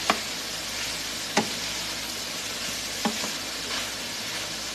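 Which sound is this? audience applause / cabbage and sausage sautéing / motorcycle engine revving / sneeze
cabbage and sausage sautéing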